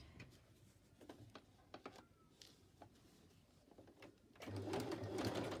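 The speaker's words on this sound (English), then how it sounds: "So I'm just going to stitch that." A sewing machine stitches layered fabric for a Christmas gift box, starting with faint scattered ticks and clicks, then settling into a brief steady whirring run near the end, quiet and close.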